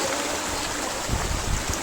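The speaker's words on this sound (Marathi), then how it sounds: "डोंगरावरनं पाणी पडतोय." Water tumbles down a mountainside waterfall at Khandi Point, a steady rushing wash with a few low surges partway through, heard alone without talk.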